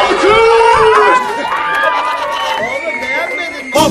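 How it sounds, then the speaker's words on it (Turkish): Lively audience at a sold-out stage comedy show cheering and clapping, with loud excited shouts and whoops on top of the crowd noise, close and energetic throughout the brief burst. "Alkış!"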